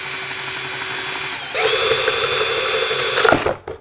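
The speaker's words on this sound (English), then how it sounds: "Just start the router bit. And push it through." A high-pitched Dremel 335 router whines steadily, then its pitch drops as the router bit bites into plywood, running loud before cutting off abruptly.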